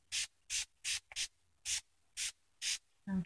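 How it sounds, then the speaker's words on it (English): Natty Wig and Braid Sheen Spray being spritzed onto a wig: eight short, close hissing bursts in a steady rhythm, each lasting a fraction of a second, with no talking. "I'm going to use this Natty Wig and Braid Sheen Spray. I'm just going to spray a little bit of this on it."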